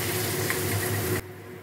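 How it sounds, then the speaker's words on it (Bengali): Potatoes frying in hot oil tempered with nigella seeds, a loud, steady hiss and sizzle close up that drops sharply to a quieter simmer near the end. "আলুগুলো একটু হালকা লাল করে ভেজে নেব।"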